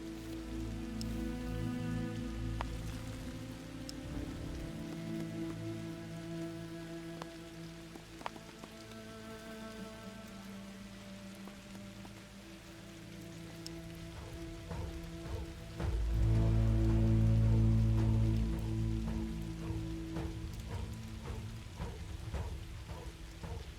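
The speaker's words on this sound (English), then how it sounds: "Here comes the rain." Steady rain falls in a tribal survival video game, a soft continuous patter with scattered drops, heard alone under quiet game music tones and a louder swell near the end.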